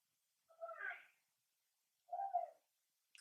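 A cat makes short vocal noises while playing with a toy indoors, two separate chirping, trilling calls about a second and a half apart, fairly faint, with quiet between them.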